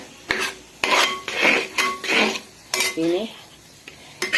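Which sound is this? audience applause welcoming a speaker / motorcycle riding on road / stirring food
stirring food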